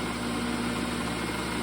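A brushless motor running steadily on a test bench, a constant close hum with a strong tonal whine and even buzzing, no change in pitch across the short span.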